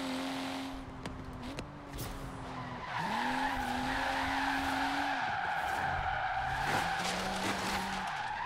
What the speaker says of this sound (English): I'm back in my favorite drifting car, the M4